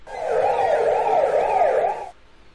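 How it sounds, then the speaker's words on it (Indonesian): Ambulance siren from a PC educational game, a loud wailing tone sweeping up and down in steady cycles for about two seconds before cutting off abruptly. "Ambulan."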